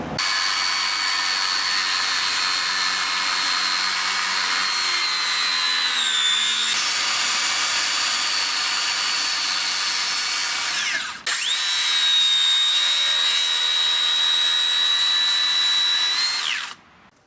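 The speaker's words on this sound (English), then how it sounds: "It's just set to cut framing, timber, every shot." A Makita 40V circular saw cutting framing timber makes two long, loud, high whining cuts close up, with a brief break between them and a spin-down at the end.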